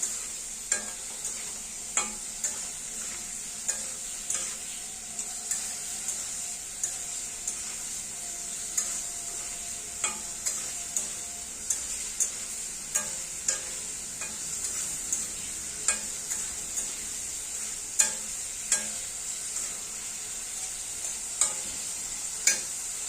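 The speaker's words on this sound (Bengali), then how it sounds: "ভালো করে এবার কষিয়ে নেব।" Masala with radish and potato sizzles steadily in a pan while being stirred for a pabda fish curry, with regular spoon scrapes ticking through a constant bright frying hiss.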